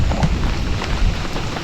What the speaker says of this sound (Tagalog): binabakbakan na kami ng ulan